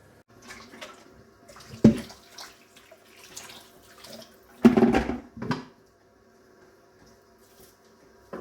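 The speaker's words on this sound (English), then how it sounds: "I'm going to just pour that in the sieve so I get rid of the water." Parboiled rice and its cooking water for Nigerian jollof rice are poured into a sieve, giving a few sudden splashing gushes and trickles between quieter pauses, close by with no talking.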